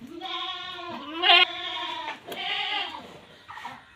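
A goat that recently gave birth bleats loudly and repeatedly while being washed with shampoo on a farm, wavering cries with a short break in the middle, close to the listener and with no talk.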